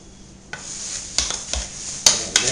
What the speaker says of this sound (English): the two are mixed together in a bowl, like so